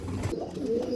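Pigeon cooing close by, a low throaty coo rolling through about a second, with a little background noise and no talk.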